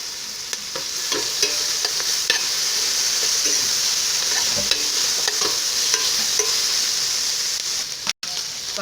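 Curry leaves crackle and sizzle as they hit sautéed onions in a hot pan, part of a Tamil-style mutton lung curry, with a steady frying hiss and occasional stirring clinks throughout, no talking.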